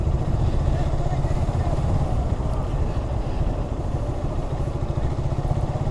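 A motorcycle rides along the sand of Teknaf beach at sunset, its steady low engine drone loud and continuous throughout, mixed with heavy wind rumble against the microphone.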